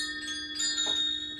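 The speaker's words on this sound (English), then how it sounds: "Let me get some chimes popping in this thing." Metal chimes ring out during a sound healing session, bright sustained tones with a fresh strike midway that shimmers and decays, heard alone.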